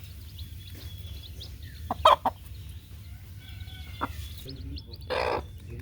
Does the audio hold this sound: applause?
no